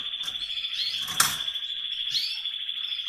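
Spanish Timbrado canaries in an aviary give a sustained high, rapid trilling song, bright and continuous, with a brief sharp knock partway through.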